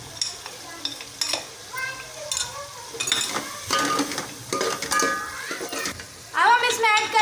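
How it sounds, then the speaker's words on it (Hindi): Tomatoes with masala and korma masala frying in a pan for a tinday gosht curry, with sizzling and repeated scraping stirs of a spoon against the pan, close and fairly loud, with brief talk in between. "टमाटर को हम अच्छी तरह भून लेंगे।"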